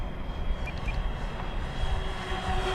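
An FMS F7F Tigercat RC model airplane, 1700mm span with 550KV motors, powers up with a steady motor whine and propeller drone. It holds at moderate level over faint outdoor background noise.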